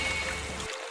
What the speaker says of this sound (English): And cue the drip rig.